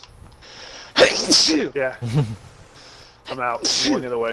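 A single sudden, sharp sneeze bursts out close and loud amid excited voices chatting during an online PUBG match, with talk continuing before and after.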